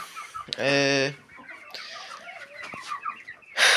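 Young hens close by give a loud, drawn-out squawking call, then a run of softer, scattered clucks, and a final sharp squawk at the end.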